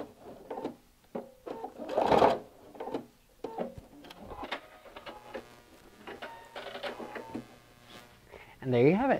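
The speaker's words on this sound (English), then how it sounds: "make sure to back stitch at the end" Sewing machine back stitching at the end of a quilted table runner, heard as brief mechanical bursts and clicks between stretches of close talking.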